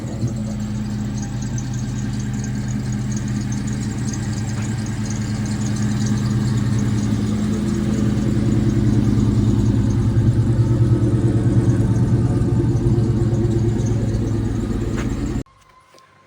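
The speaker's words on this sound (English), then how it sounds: "We're about to go for a test drive, see how the rear suspension holds up." A 1998 Ford Mustang GT on a test drive, its engine droning steadily and loud from inside the car, rising slightly in level midway and cutting off abruptly near the end.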